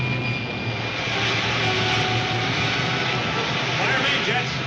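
Rocket ship jets fire in a 1952 sci-fi film: a steady, loud roaring rush of engine noise that holds evenly throughout, with a faint low hum beneath.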